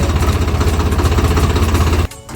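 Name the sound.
tractor engine running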